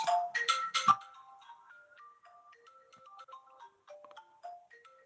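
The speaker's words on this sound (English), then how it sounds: "Sorry, my phone went off there." A mobile phone ringtone plays a bright melodic tune, starting with a loud burst of chiming notes and then continuing as a softer, steady sequence of individual tones in a quiet room.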